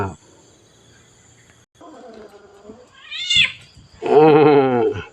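A cat meows twice, a short call followed by a longer, louder drawn-out meow, with quiet background sound between.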